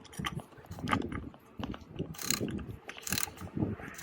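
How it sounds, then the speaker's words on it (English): Ratchet tool used to push prefabricated wall panels apart or pull them together on a passive house build, giving quiet intermittent mechanical clicks and rattles in irregular bursts. "this is your ratchet for, I can either be pushing panels apart"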